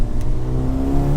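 A Mercedes A35 AMG accelerates hard on the road, its engine note climbing steadily and loud and close, with one sharp exhaust pop near the start.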